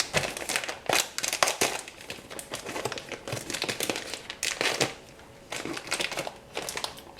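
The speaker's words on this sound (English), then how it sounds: "I'm going to cut the bag open now." A plastic bag of dried currants is cut open, giving close, loud crinkling and rustling that keeps on with a few sharper crackles.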